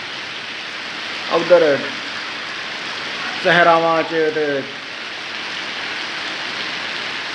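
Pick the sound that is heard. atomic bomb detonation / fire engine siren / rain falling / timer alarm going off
rain falling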